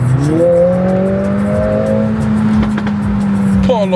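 A Volkswagen Golf 7R engine revs and holds a steady drone before sharp exhaust pops and bangs crack out near the end, close and loud, with a voice briefly audible.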